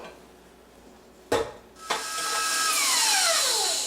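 An electric mixer beats milk into frosting, starting with a couple of sharp clicks and knocks, then spinning up into a steady whirring drone that holds to the end, with no talk.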